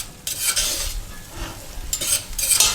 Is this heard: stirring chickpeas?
yes